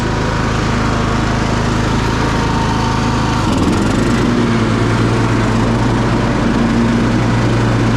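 Riding lawn mower powered by a Kohler Courage engine runs with its blades engaged, a loud, close, steady engine drone whose tone shifts slightly as the load changes partway through but otherwise holds an even pitch.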